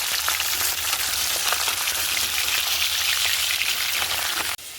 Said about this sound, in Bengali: আর এক খোলা মাছ এই যে ভাজার জন্য দিয়ে দিয়েছি কড়াইতে